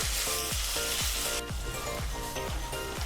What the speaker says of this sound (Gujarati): તો ડુંગળી આપણે હલકી બ્રાઉન થાય ત્યાં સુધી હલાવશું